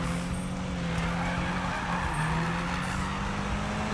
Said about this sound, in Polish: jak ta maszyna się pociągnie, to ona ciągnie już te drifty